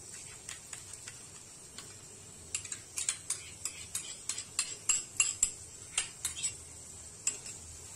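A metal spoon scraping salted yogurt out of a bowl into a pan while cooking egg malai masala, a run of light, fairly close clinks and scrapes in an irregular rhythm.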